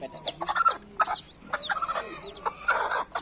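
A hen clucking among her chicks, repeated short clucks and soft calls in quick irregular bursts, close and fairly loud.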